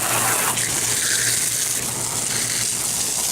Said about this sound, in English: hose it down really well.